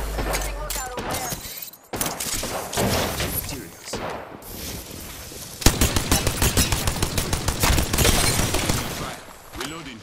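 Rapid automatic gunfire and shot bursts in a video game arena match, loud and dense, with a sharp volley of evenly spaced shots in the second half and game voice lines over the action.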